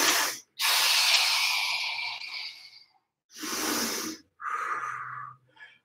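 Several loud, breathy rushes of air during a circuit-training workout: a long deep inhale, then a shorter one, then a tighter, higher-pitched breath, separated by brief silences, close to the microphone.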